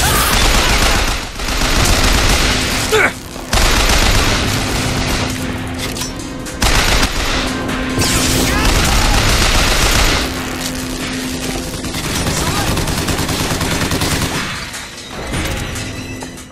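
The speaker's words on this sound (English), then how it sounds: "What the hell is he shooting at?" Heavy gunfire in Bioshock Infinite, loud sustained volleys and crashing impacts running nearly throughout, with a few brief dips in the barrage.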